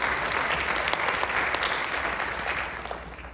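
Steady applause from an audience at a senior scholarship awards ceremony, dense clapping at a constant level that thins slightly toward the end.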